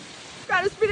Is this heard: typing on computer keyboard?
no